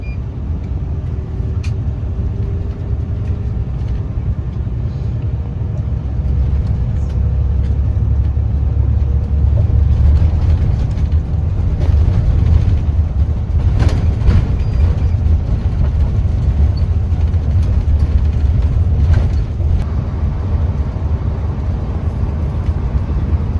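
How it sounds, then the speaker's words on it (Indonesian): Balideva bus cruising on the road from Surabaya to Denpasar, a steady low engine drone and road rumble running throughout at even loudness, with faint rattles and a brief hiss near the middle. "Kurang lebih sekitar 10 menit bus ini berjalan."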